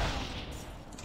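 Shotgun blast in the Torchlight 2 video game, a single broad burst at the start that decays into a rumbling tail over about a second, loud and close.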